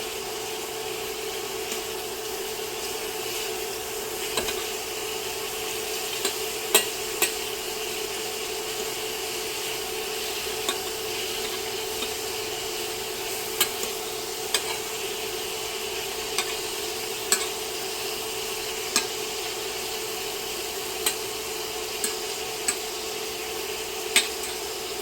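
Shrimp frying in a pan give off a steady, moderate sizzle, broken by small scattered clicks and pops, with no one talking.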